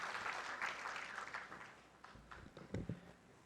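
Audience applause at an awards ceremony for a documentary film festival, a steady wash of clapping that thins out partway through, followed by a few louder, closer claps and knocks near the end.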